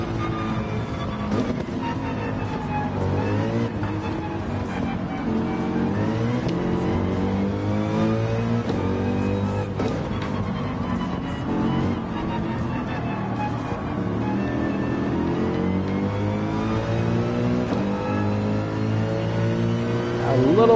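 A race car engine in a racing video game revs continuously and loudly, climbing and dropping through the gears with steady rising and falling pitch sweeps for the whole stretch, close and dominant with no other sounds over it.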